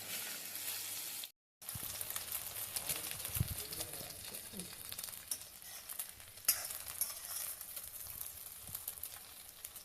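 Cubes of egg fry on high heat in a pan, a fairly quiet, continuous sizzle with scattered pops and occasional stirring knocks, interrupted by one brief moment of silence near the start.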